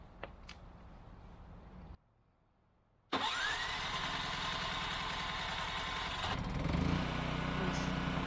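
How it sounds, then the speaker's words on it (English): Onan generator engine cranks, then catches after a short pause and settles into a steady, loud mid-pitched running drone close by. "I'm going to run the generator"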